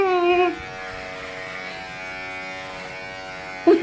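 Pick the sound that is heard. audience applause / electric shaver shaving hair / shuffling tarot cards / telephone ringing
electric shaver shaving hair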